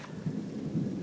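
Thunderstorm with low rumbling thunder rolling steadily beneath rain and wind, a continuous deep murmur that swells slightly twice without any voices.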